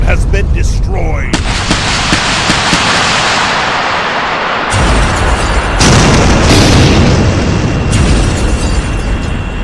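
A Fire Prism tank from Warhammer 40000 is destroyed in a loud explosion: a rumbling blast that swells into sustained roaring booms and debris noise, with further bursts layered throughout.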